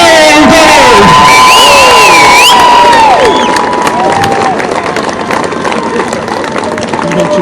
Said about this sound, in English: have another big round of applause for Sarah Dave.